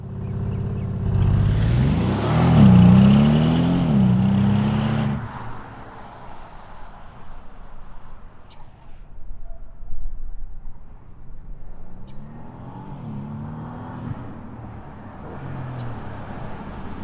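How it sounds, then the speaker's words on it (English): A 2025 Bentley Continental GT First Edition engine starts up close with a loud, rising rev, then settles and fades as the car pulls away, leaving a low whir and road noise with another faint engine swell. "Let's go ahead, let's fire it up and see this thing move."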